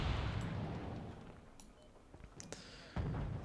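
Explosions of cargo units in the real-time strategy game Wargame: Red Dragon, heard as low distant booms and rumble that gradually fade, with a few sharp crackling hits and a fresh low blast near the end.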